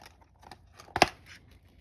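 Paper card pieces for a birthday card are cut out with a die cut, giving one sharp, close snip or tearing crunch near the middle of an otherwise quiet moment.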